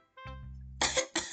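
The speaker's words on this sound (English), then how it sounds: "Monika coughs in surprise" A single sharp cough from a young woman caught by surprise, a low voiced onset followed by two quick, breathy bursts, close and clear against silence.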